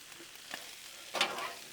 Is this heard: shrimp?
yes